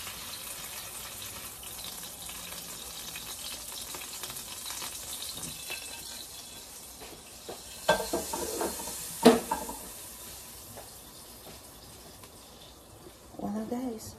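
Egg and ham sizzle steadily in a pan for breakfast, a soft continuous frying hiss with occasional clinks of utensils and a few louder knocks, heard close by.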